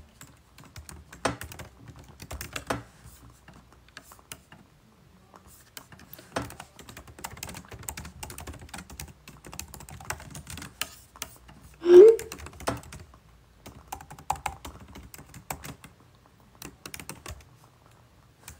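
Someone types on a computer keyboard in short, soft bursts of rapid clicking separated by pauses, close by and quiet, with one louder thump partway through.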